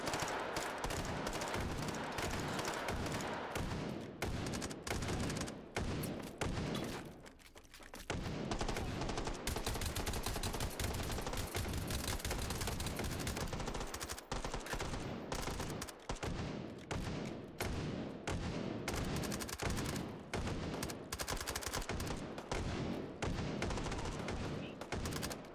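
Sustained, dense automatic gunfire from Hot Dogs, Horseshoes & Hand Grenades in VR, loud and nearly continuous bursts with only brief pauses, some shots echoing as if fired through a stairwell.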